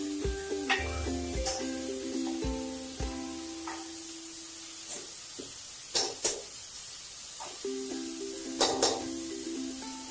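Masala frying in oil for a mutton curry, a soft steady sizzle with clinks and scrapes of a spoon stirring the pan and a few sharp knocks against the pot.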